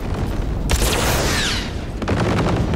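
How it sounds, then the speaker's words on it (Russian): Gunfire in the Cyberpunk 2077 video game: a loud burst of rapid shots with a ringing tail, then a second, shorter volley of cracks after a brief lull. "Ты давай стреляй по этим ржавым ведрам,"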